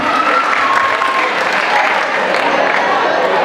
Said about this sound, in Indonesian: Boleh dong tepuk tangannya untuk Ustaz Alvin